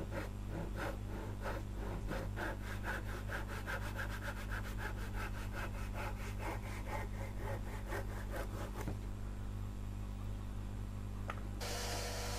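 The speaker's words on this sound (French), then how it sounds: "Je commence à la scie pour enlever le plus de matière possible." Hand saw cutting out a mahogany Les Paul-style guitar body, with steady back-and-forth strokes in a quick, even rhythm for most of the stretch over a constant low workshop hum, stopping near the end.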